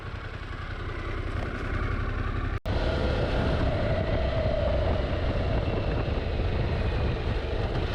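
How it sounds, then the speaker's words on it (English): Harley-Davidson Pan America motorcycle riding off-road on a dirt road: a steady, continuous engine drone mixed with wind rush and rumble, with one brief dropout partway through. "This bike handles the dirt so awesome."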